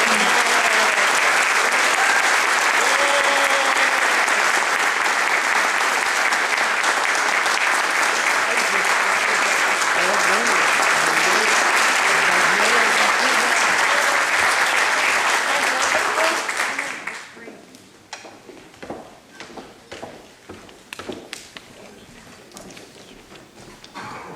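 Sustained, full audience applause at a 2014 Martin Luther King Jr. celebration, dense clapping that fades after about seventeen seconds into a few scattered claps and room noise.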